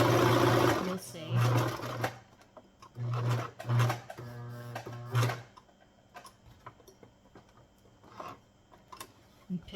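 A serger overlocks fabric in several short, loud bursts of rapid stitching, with a voice talking over and between the runs before quieter handling sounds follow.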